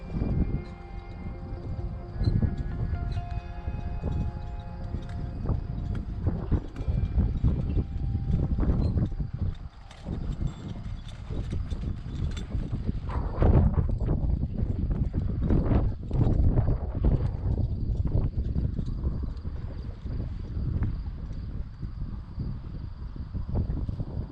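A rescued racehorse performs a ranch roping maneuver. Its hooves clip-clop steadily and continuously, with a loud, close, uneven rhythm of hoofbeats.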